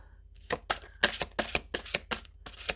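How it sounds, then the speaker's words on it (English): Tarot cards being shuffled by hand, the deck sticking, giving a series of quick papery riffling bursts in an irregular rhythm, close and fairly quiet. "What's happening to my shuffling?"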